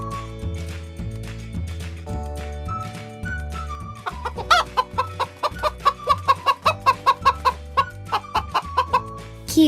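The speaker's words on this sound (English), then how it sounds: "Cutie is a happy and loving hen that lives at the Hawk's little ranch" A hen clucks in a quick, regular series of short calls at close range, rising over a steady musical background with no talking.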